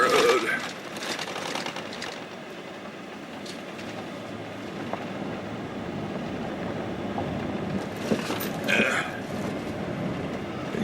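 A car rolls over a bumpy dirt road in the Valles Caldera National Preserve, a continuous low rumble with rattles and jolts that rise and fall throughout the ride.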